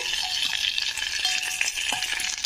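Brinjal curry for a curd brinjal dish frying in a pan while being stirred: a constant, close sizzle broken by soft scrapes of the spoon, with no one speaking.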